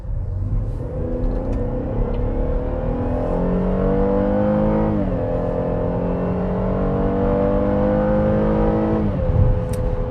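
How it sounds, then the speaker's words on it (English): A 2022 Chevy Traverse engine pulls hard under acceleration, a loud, steady rising drone heard from inside the SUV that shifts down in pitch twice as gears change, with road rumble beneath and no talk. "Yeah, that engine really moves this vehicle very well."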